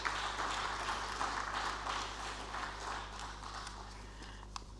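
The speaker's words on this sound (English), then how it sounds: "Another round of applause for him, please." An audience at a conference on CAADP food systems in Nigeria claps in steady applause, a spread of many hands patting unevenly at moderate volume and slowly thinning out, over a low room hum.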